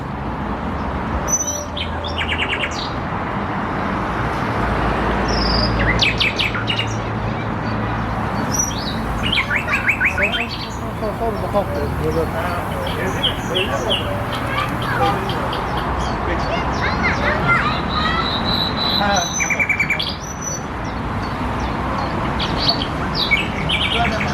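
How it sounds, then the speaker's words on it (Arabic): Small birds chirp and tweet in short scattered bursts throughout, mixed with outdoor background noise and people talking nearby, in a park in Turkey. "سمعت العصافير محلاها"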